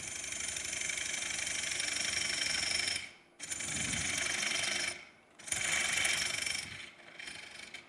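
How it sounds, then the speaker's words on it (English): A scraper tool cutting away material at a woodworking meeting, lifting ribbons off the workpiece: loud, close, rough broadband scraping in three long sustained strokes separated by brief pauses. "This is a scraper tool, but it's a cutting tool."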